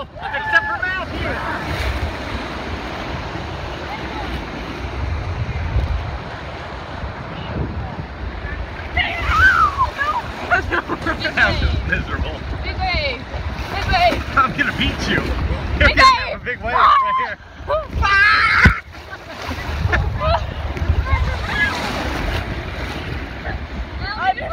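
Ocean surf surges and breaks around body surfers on a vacation beach, a steady loud wash of waves and wind buffeting the microphone, with people calling out and chatting over it.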